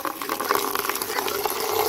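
Water pours into a small bucket, a continuous splashing, gurgling stream heard up close for a couple of seconds, steady and moderately loud.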